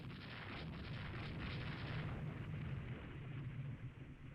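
Naval gunfire from warships in the Rule the Waves 2 strategy game: a steady, dense rumble of distant shell bursts and cannon fire rolling continuously without distinct separate booms, fairly faint and with no talk.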